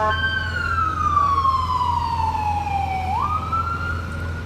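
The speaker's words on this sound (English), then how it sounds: "We'll wait for the sirens." A warning siren near the 2018 Kīlauea eruption wails, sweeping slowly downward in pitch, then jumps back up, sounding steadily over a low engine rumble.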